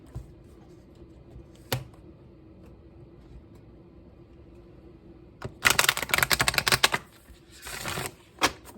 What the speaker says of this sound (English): Cards are starting to get broken in, so I can actually shuffle now.